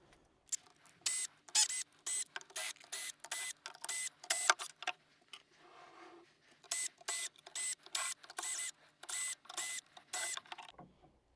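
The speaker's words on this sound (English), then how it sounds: "remove the 8 3mm screws on the front and the back panel" The eight 3mm screws on the front and back base panels of a Proteus Maximus lighting fixture are backed out with a powered driver, giving repeated short whirring bursts in quick rhythmic runs, close and clear, with no speech.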